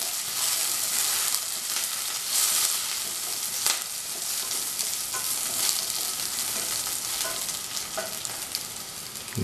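Shallots, green chili and curry leaves frying in a pan, a loud continuous sizzle with crackling bursts and occasional stirring scrapes, close and without talk.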